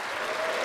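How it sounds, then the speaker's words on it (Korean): A church congregation applauds, a brief, steady burst of many hands clapping at moderate distance. "박수가 좀 커야 되지 않겠습니까?"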